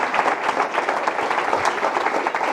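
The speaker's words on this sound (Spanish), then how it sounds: "pero ese aplauso a Cristo" A church congregation breaks into steady, dense applause for Christ during a Spanish-language sermon, many hands clapping together at close range with no voices over it.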